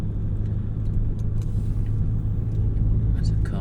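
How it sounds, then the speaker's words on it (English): A car approaching along a road, a continuous low engine and tyre rumble that holds steady and close, with faint clicks above it. "There's a car coming up,"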